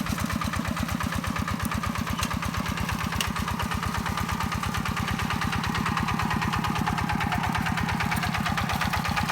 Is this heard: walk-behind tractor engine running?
yes